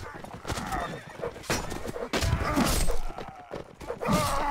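A horse whinnies in a multiplayer strategy video game, several neighs and snorts mixed with clip-clop and battle clatter, while players talk over the action.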